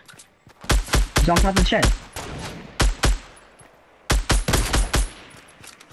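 Close, sharp gunfire in the video game Fortnite comes in rapid bursts of shots separated by short pauses, with a voice speaking briefly between volleys.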